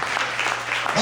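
Congregation applauding during a church service, a steady wash of many hands clapping together, fairly loud and continuous, with a voice faintly underneath.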